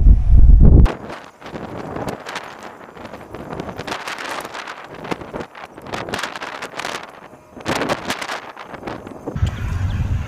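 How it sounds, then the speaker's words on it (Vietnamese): Strong gusting wind buffets the microphone at a wind farm construction site where huge turbine blades are being lifted, with heavy roaring bursts and rumbling throughout. "Mình đang cảm giác dường như gió mỗi lúc một mạnh hơn thì phải"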